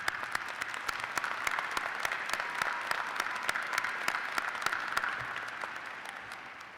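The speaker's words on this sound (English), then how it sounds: "Let's give them a round of applause" Commencement audience at a university graduation ceremony applauding, a steady wash of many hands clapping at moderate volume that tapers slightly toward the end.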